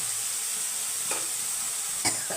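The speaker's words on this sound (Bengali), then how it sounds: "মশলাটা আমার ভাজা হয়েছে ঘন ঘন হয়ে গেছে" Spice paste of ginger, onion, garlic and chillies fries steadily in a pan for a spicy fish curry, with a constant sizzling hiss and a few soft stirring scrapes.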